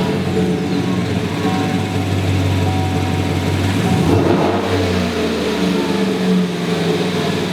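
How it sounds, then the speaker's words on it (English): A truck fitted with a Corsa performance exhaust starts up and settles into a loud, steady rumble with a deep tone, revving briefly midway, close to the microphone and with no talking. "see what it sounds like with this performance exhaust. The last thing to do is start it up and see what it sounds like"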